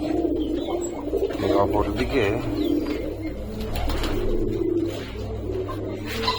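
Many pigeons coo in low, rolling overlapping calls inside a sixth-floor rooftop pigeon house at night, steady and close, while someone speaks over them.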